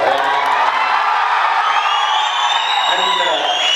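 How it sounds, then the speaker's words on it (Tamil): Crowd at a film audio launch for Iru Mugan cheering and whistling, with a dense, steady roar of voices and high whistles sustained loudly through the moment. "இந்த கைத்தட்டலும் விசிலும்"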